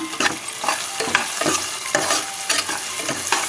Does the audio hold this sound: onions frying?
yes